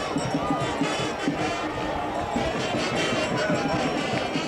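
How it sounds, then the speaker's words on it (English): Murmuring, subdued crowd at a 1985 East Brunswick high school football game against JP Stevens, a dense steady hum of many distant voices with scattered shouts and claps throughout, no single sound standing out. "a subdued East Brunswick crowd"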